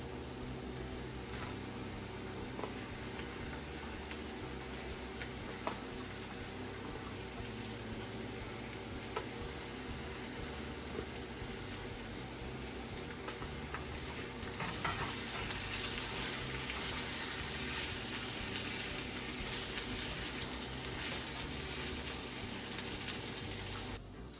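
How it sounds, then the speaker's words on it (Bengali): Chopped vegetables fry with potatoes in a pan, a steady close crackling sizzle with occasional stirring scrapes that grows louder and brighter partway through, with no talk. "আলুগুলো প্রায় ভাজা ভাজা হয়ে গেছে, এবারে এই কাটা সবজিগুলো দিয়ে দেব।"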